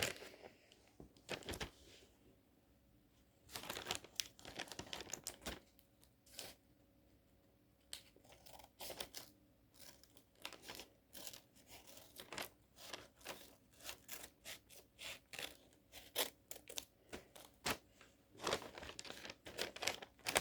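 A gift package is unwrapped up close, with intermittent bursts of paper crinkling, rustling and tearing separated by quiet pauses.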